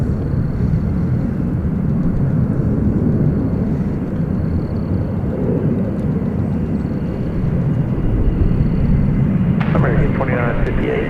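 A Boeing 747 takes off at night at DFW Airport, a loud, steady, broad engine roar that holds throughout, with faint voices in the background.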